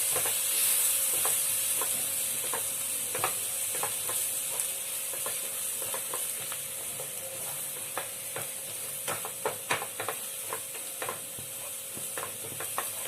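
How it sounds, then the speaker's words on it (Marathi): Spiced green pea filling for matar kachori steadily sizzles and fries in a pan, with repeated soft scraping strokes of a spoon stirring it, close and continuous with no talking. "याला 2-3 मिनिटे हलवत राहायचं."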